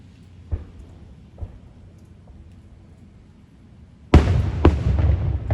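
Fireworks at the Lewis County Fair: two faint distant pops early on, then a loud close burst of booming explosions and crackling that continues to the end, with no talk.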